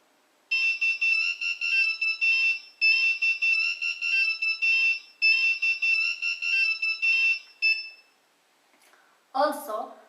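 An Arduino buzzer beeps out a melody as a museum-style installation reacts to someone nearing its ultrasonic sensor, the electronic tones coming in three long phrases before a short, different chirp sounds near the end.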